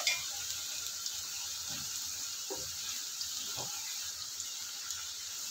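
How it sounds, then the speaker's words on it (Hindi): Mixed vegetables with cabbage simmer in a pan of water, a steady bubbling hiss with faint crackles and a few soft knocks. "देखिए इसमें उबाल आ गया है"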